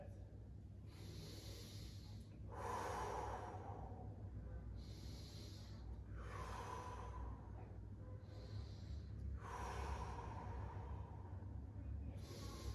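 Slow, deliberate breaths during a hip mobility exercise, each long inhale and exhale rising and fading in a steady rhythm over a low constant hum, close to the microphone with no talking.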